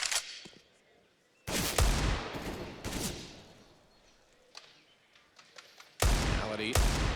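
Counter-Strike: GO gunfire from an esports showmatch on the Inferno map at IEM Chicago 2018. Loud bursts of rapid automatic fire cut in and out, with a few single shots between the heavy volleys.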